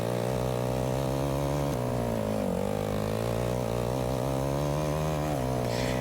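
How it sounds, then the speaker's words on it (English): A year 2000 ATV engine running steadily nearby, a continuous buzzing drone with slight rises and dips in pitch, alone without talk. "for a year 2000 ATV, she sure starts pretty good and she sounds pretty good"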